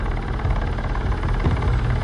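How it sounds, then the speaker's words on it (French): A Swiss army Super Puma helicopter flies close by, its rotor giving a loud, continuous thudding beat over a broad engine roar, with no voices. "cet hélicoptère Super Puma de l'armée suisse"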